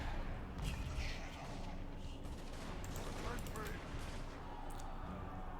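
Artillery and massed gunfire in a Total War: Warhammer battle, a dense rumbling barrage with scattered sharp cracks, continuous and moderately loud, with a voice talking over it.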